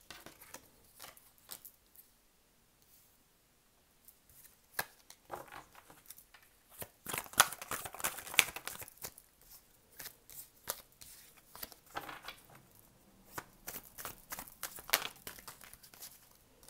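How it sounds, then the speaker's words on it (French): Tarot cards being drawn and shuffled during a reading, with soft intermittent riffling and crisp card flicks that build after a quiet start, close and fairly faint, no voices. "Je termine le tirage, après je vous fais l'interprétation."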